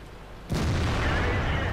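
A single loud boom from a tank gun firing in the video game World of Tanks bursts in suddenly after a quiet moment, then settles into a sustained low rumble.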